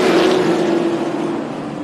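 Thunder Trucks race trucks roar through the turn at the start of a race at Tucson Speedway, a loud sustained engine drone that fades slightly as the pack passes.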